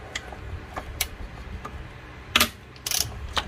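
A wrench works loose 10mm bolts on a car throttle body, giving scattered light metallic ticks and clicks with a couple of louder ratcheting bursts, close and otherwise quiet with no talking.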